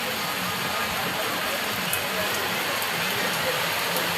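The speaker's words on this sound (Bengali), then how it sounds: "দেখো প্রচণ্ড বৃষ্টি হচ্ছে" Heavy rain pours down in a steady, dense hiss that stays even and unbroken throughout.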